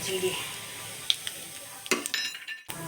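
Turmeric and cumin sizzling in hot oil in a kadai, a steady hiss with a few sharp metallic clinks and scrapes from a utensil against the pan.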